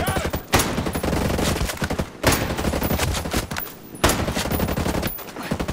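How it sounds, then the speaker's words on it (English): Sustained automatic gunfire in Ghost Recon Breakpoint, a heavy continuous fusillade in three long bursts separated by brief pauses, loud and close. "We're taking fire!"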